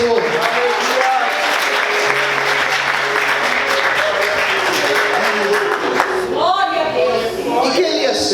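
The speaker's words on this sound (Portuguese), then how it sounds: "Aplaude o Senhor." A church congregation applauds steadily and continuously, with a voice speaking Portuguese over the clapping and a few shouts rising toward the end.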